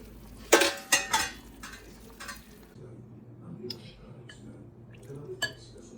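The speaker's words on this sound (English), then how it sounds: "Time to serve us a bowl of caldo de res." A ladle clinks against a pot and bowl while caldo de res, a beef soup, is served, with a few sharp metallic knocks early on, then softer scraping and liquid sounds nearby, and no speech.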